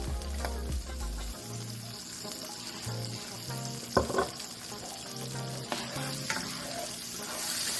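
Butter and olive oil sizzle steadily in a frying pan at a low level, with a few clinks and scrapes of utensils and a brief running-water sound partway through.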